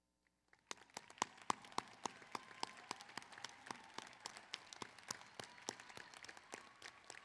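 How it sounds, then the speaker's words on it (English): A graduation commencement audience applauds faculty and staff, dense clapping starting abruptly and continuing steadily with sharp individual claps over a broad wash, moderately distant in a large hall. "join me in a round of applause for all of your tireless efforts to help our graduates reach the milestone today"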